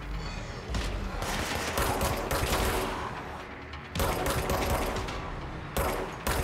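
Rapid bursts of gunfire in the video game Control, loud and close, coming in dense volleys with short pauses between them and no talking.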